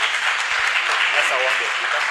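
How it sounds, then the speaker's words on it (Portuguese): Audience applause greets the speakers of a final panel discussion at the Federal University of Rio de Janeiro: a steady, dense wash of clapping lasting a couple of seconds, with a voice audible over it. "Vamos saudá-los então com uma salva de palmas"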